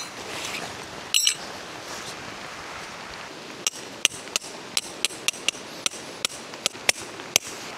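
A pole stand is hammered into the ground at a riverside campsite, with about a dozen sharp, evenly spaced metallic strikes ringing out close by over soft outdoor ambience, after one louder clatter near the start.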